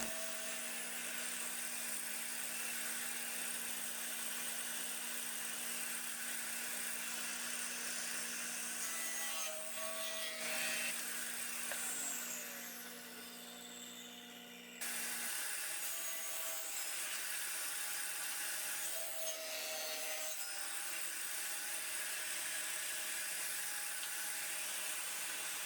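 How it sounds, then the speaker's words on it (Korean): Camphor wood being cut to form a groove for the bottom panel of a finger-jointed spoon holder, a steady rasping saw-like scrape running throughout with a brief change in tone midway, no talking. "하판이 끼워질 홈을 만들어줍니다."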